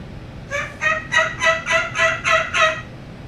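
A series of eight evenly spaced turkey yelps made on a mouth call, a voice imitating the bird, close and clear with a soft background hiss.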